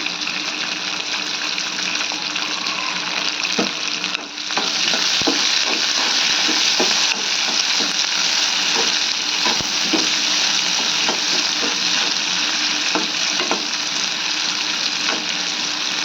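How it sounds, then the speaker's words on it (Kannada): Chopped onions fry in a pan with a loud, steady, close sizzle, and faint stirring clicks run through it without pause. "ಉಳ್ಳಾಗಡ್ಡಿ ಸ್ವಲ್ಪ ಫ್ರೈ ಆಗ್ಲಕ್ಕೆ ಬಿಡ್ತೀನಿ ರೀ"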